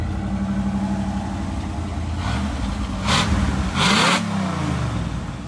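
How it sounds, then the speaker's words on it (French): Chevrolet Caprice V8 engine rumbling on the road, then revving up in two quick bursts of acceleration, loud and close from inside the car, with no voices over it. "quel plaisir quand t'accélères comme ça, d'entendre toute la mécanique travailler juste devant nous là"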